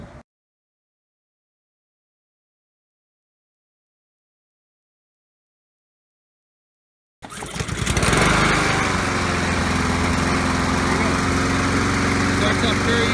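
After several seconds of silence, a lawn mower engine under repair for running poorly fires up suddenly and settles into a loud, steady running drone.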